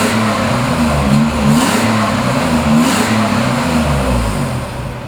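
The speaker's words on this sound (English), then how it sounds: "Let me rev it for you so you can hear it" A 1985 Nissan 300 ZX with low mileage revs its engine repeatedly, a loud close growl that rises and falls in pitch across several throttle blips, with no voices over it.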